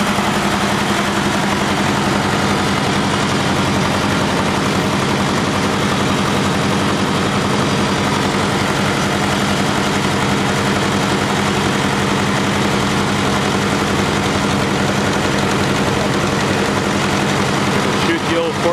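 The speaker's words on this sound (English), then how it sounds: "So many tractors going in so many different directions." Steady, loud engine drone of several tractors, including an old 460 Wheatland and a 400, with a deep low rumble, continuous throughout.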